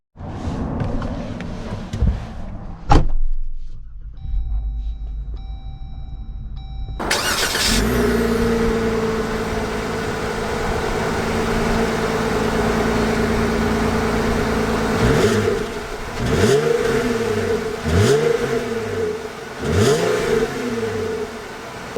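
A new Jeep Wrangler Rubicon Xtreme Recon with a Mopar cold air intake cranks and starts, with a few clicks and a beep before the engine catches. It then idles steadily up close before several sharp revs rise and fall near the end.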